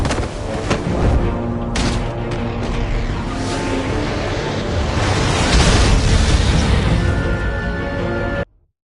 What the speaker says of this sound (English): There's Riddler's trap to protect Iman and myself from the explosion